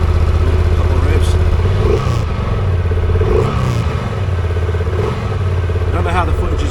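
A 2023 Honda XL750 Transalp idles with a steady low rumble, then is blipped a couple of times in short revs that swell and fall back; a voice talks over the engine.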